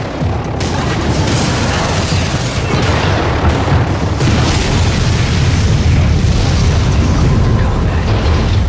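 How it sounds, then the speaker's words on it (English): A nuclear missile blast in a real-time strategy video game, a loud, sustained roaring explosion with deep rumbling and crackling bursts that stays dense and powerful throughout. "Nuclear missile launched."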